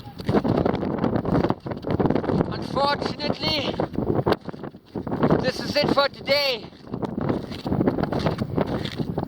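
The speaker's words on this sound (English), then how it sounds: "Too windy, too cold." High wind buffets the microphone on the Pico de Orizaba glacier in cold weather, a rough, gusting roar that runs throughout under someone speaking.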